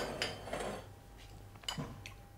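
Basil and ricotta being mixed in a bowl: a few light clinks and scrapes of a utensil against the dish, spread irregularly, fairly quiet, no voices.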